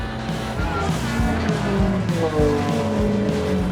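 A 60-year-old Lotus Elan race car engine roars steadily nearby on a track, its pitch rising and falling through gear changes, with no voices.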